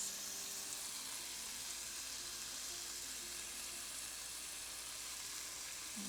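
Chicken browns in hot oil in a pan, a steady, soft broadband sizzle running evenly throughout with no voices.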